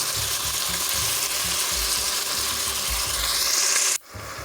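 Beef cubes brown over medium-high heat in a stew pot, giving loud continuous sizzling and frying hiss with the scrape of stirring, then the sizzle cuts off abruptly near the end.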